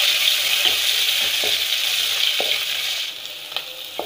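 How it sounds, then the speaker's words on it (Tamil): Onions hit hot oil with spices and fry in a constant, fairly loud sizzle, broken by a few light clicks of a spoon stirring the pan; no voices. "இப்போ வெங்காயம் சேர்த்துக்கலாம்"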